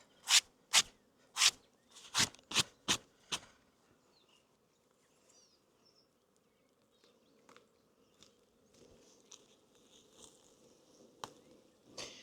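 Honey bees buzz at an open spring hive, a soft continuous hum with a few loud sharp knocks and taps of hive equipment at the start, then scattered quieter clicks.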